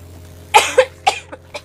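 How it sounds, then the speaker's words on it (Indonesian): An elderly blind woman coughs in a short drama scene, giving a close cluster of four or five rough, irregular coughs over about a second, with no speech. "hanya batuk biasa saja"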